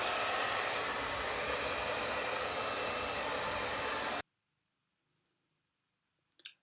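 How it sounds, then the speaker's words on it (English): A hair dryer drying a drywall hole repair blows loudly and steadily, then cuts off abruptly into near silence, followed by a brief faint click. "So we're using a hair dryer for the drying process."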